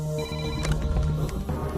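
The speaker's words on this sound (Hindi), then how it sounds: "पुलिस स्टेशन में कदम रखते ही पहले दिन के फोन कॉल ने चैत्रा की जिंदगी को बदल दिया।" A telephone rings at a police station in a dubbed Indian film, a steady electronic ring with tonal bands continuing throughout over other film sound, loud and near.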